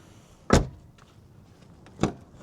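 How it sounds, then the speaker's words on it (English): A BMW car door shuts with a solid thud, then a second similar closing thump follows about a second and a half later, with quiet in between. "when I close this door"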